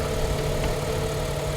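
A car engine idles just after starting, a steady mid-low hum with a faint vibration and a constant tone that stays level and close for the whole short stretch.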